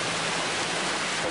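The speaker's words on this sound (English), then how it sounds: "this rain started coming pouring down" Heavy rain pours down over a creek as heard from beneath a bridge, a dense, unbroken hiss of steady downpour with no voices.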